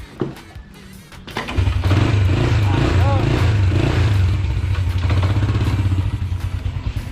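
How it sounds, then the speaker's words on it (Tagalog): A just-repaired motorcycle, fixed with a new washer, fires up after a brief clatter and settles into a loud, close, throbbing idle that runs steadily to the end. "Yun mga kabady, ayos na yung motor natin oh."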